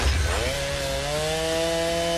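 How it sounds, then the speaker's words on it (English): A chainsaw-like skill effect from the video game Guild Wars 2, a buzzing motor drone that revs up in the first half second then holds a steady high whine, loud and alone. "Yes, it's a lot of chainsaw."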